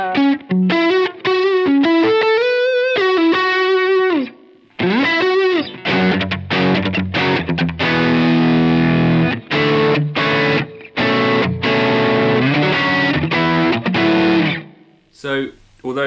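Electric guitar played through a Revivaldrive overdrive pedal with gain turned all the way up, thick distorted chords and sustained notes in loud bursts with short gaps, ending in a brief muted scrape.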